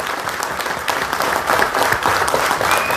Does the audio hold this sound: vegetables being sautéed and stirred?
no